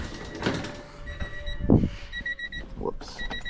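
A car's warning chime for keys left in the ignition, repeated high electronic tones pinging at a steady rhythm amid clunks and workshop noise, fairly close.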